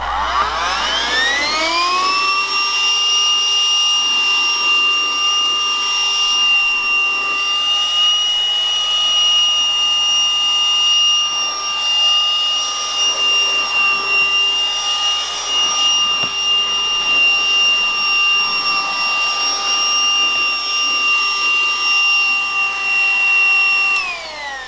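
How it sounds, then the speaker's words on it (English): A cordless handheld vacuum cleaner runs steadily on carpeted stairs, a loud, continuous high-pitched motor whine that spins up at the start and holds nearly constant for the whole stretch, with no talking. "we're going to demonstrate our little hand vac on our stairs"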